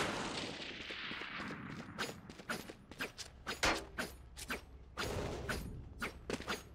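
Rapid gunfire from the Valorant video game rings out in a long series of sharp, closely spaced shots and short bursts, fairly quiet overall, following a fading swoosh at the start.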